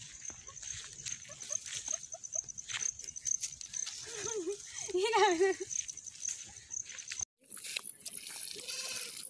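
Goats bleat in wavering cries amid outdoor chatter and scuffling, with voices talking nearby and a sudden cut to a hissier background near the end.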